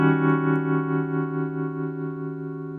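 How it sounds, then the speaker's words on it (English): A sustained, steady synth-like tone through a stereo tremolo with left and right channels out of phase, gently pulsing, wavering volume swirling evenly through the held note without any voices. "it's going to take the left and right of the tremolo out of phase."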